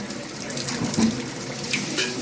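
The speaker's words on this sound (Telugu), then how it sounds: "నీళ్ళు మొత్తం వంపేసుకోవాలి." Water pours steadily out of a cooking pot during egg biryani preparation, a continuous close splashing rush lasting the whole moment with no talk.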